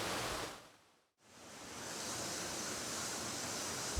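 A rushing waterfall gives a constant broad roar of falling water, briefly dropping out for a moment before returning steady and full, heard close and alone without voices.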